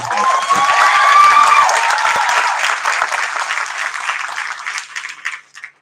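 Loud burst of audience applause at a school board meeting, many hands clapping close and dense, swelling early and then thinning into scattered claps before fading out.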